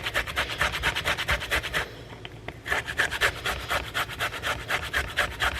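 Fresh ginger scraped against a kitchen grater in quick, rhythmic back-and-forth strokes, close and moderately soft, with a short pause partway through before the rasping resumes.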